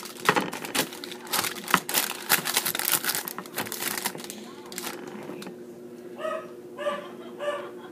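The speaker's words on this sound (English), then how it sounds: "if you can hear my miniature poodle in the background barking" A miniature poodle yaps in quick, high barks near the end, after a stretch of loud crinkling and rustling close by.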